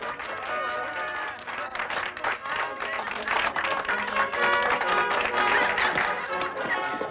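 A human pyramid claps outdoors under the sun with an orchestra nearby: rapid, overlapping hand claps from a group, fairly loud and continuous, mixed with crowd noise and voices talking.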